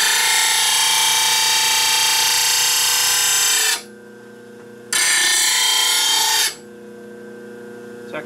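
A grinder tool puts a bevel on a blade, a loud, close, bright grinding hiss that runs for nearly four seconds, stops, then returns for about a second and a half over a steady motor hum.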